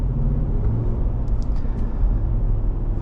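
A 2026 Ram 1500 Laramie's 5.7L Hemi V8 engine gives a steady, loud, deep rumble that holds without a break for a few seconds, with no talking.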